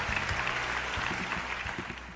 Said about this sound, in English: What are y'all cheering for?